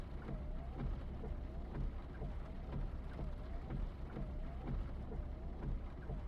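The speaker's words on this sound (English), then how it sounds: "Sure is raining hard." Heavy rain pours steadily in Final Fantasy 7, a dense continuous hiss with low rumbling underneath, no voices.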